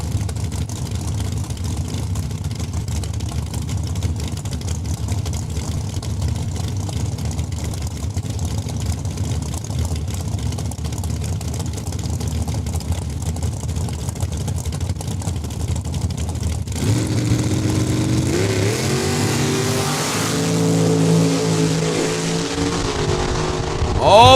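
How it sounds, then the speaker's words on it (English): A dragster at a drag strip races off the line, a loud, steady engine roar that shifts midway into a harsher, rising rasp as it speeds down the track, with no talk. "the dragster gets the head start at 892"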